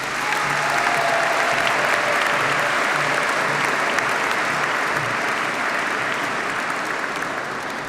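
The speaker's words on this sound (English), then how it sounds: "Shall we have another round of applause?" An audience applauds at a dental graduation ceremony, with dense, steady clapping from a large crowd that stays loud and sustained throughout.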